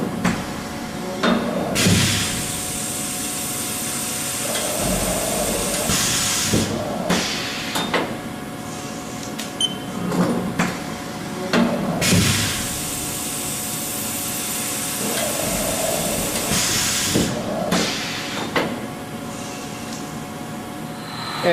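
A 2007 Haas VF-5XT CNC mill with a 30-horsepower spindle whines and hisses as it ramps down to 2,500 RPM and shifts gears to 1,000 RPM, with sharp clunks and repeated surges in level.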